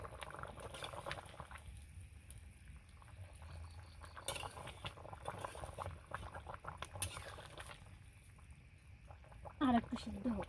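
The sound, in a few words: chicken meat boiling in a pot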